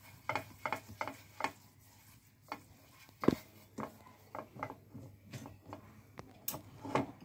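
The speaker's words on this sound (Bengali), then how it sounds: "একদম মিডিয়ামে রেখে দিচ্ছি, দিয়ে খুব সামান্য তেল দিলাম, দিয়ে ব্রাশ দিয়ে ছড়িয়ে দেবো এটাকে" A pastry brush spreads a little oil across a pan on a medium gas flame, giving soft repeated strokes and light taps over a faint sizzle, with no talking.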